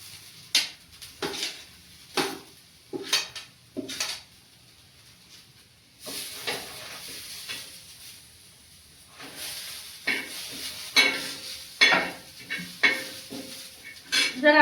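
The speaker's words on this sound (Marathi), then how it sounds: "तर आता ह्याच्यात टाकते खोबरं." Coconut stirred and roasted in a pan while preparing a traditional Marathi fish curry, with a series of sharp scraping clinks of spoon on pan and a soft frying hiss in between, close and fairly quiet, with no voices.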